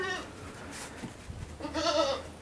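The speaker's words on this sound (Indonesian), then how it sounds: "Nyantai, baru mandikan kambing." A goat on a farm, being bathed, bleats nearby: a short cry at the start, then a longer, louder wavering bleat later, over quiet background sounds.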